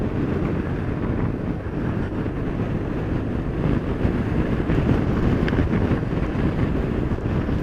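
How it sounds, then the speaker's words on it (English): Strong wind buffets a motorcycle with full fairing and large panniers as it rides. A loud, steady roar of wind noise fills the whole stretch, with no talking. "That wind is strong here."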